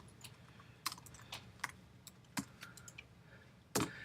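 Fingers tap out a string of separate keystrokes on a computer keyboard, close and fairly quiet, with uneven gaps between the clicks and one sharper, heavier strike near the end.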